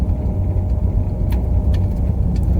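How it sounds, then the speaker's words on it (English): A pickup truck driving past outdoors, a steady low engine and road rumble that stays fairly loud throughout, with a few faint higher noises above it and no talk. "she just passed me in her truck"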